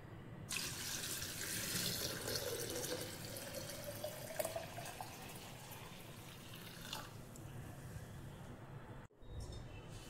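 Lukewarm water being poured into a kanji mixture of spices and asafoetida, a steady close splashing stream that runs for most of several seconds, then briefly cuts out before resuming.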